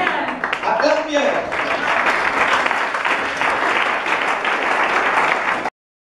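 Church congregation breaking into sustained applause and clapping, dense and continuous at close range, with voices calling out briefly near the start, before it stops abruptly near the end.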